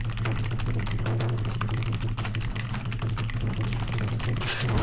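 Rapid, steady typing on a cheap computer keyboard bought for 35 euros, dense clicking keystrokes close up and continuous throughout, with no talking.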